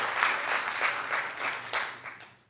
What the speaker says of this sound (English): So one more round of applause for the family behind you.